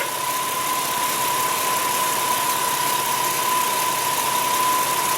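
A car engine idles steadily and loudly, a constant drone with a faint high whine running through it and no break or change in pitch.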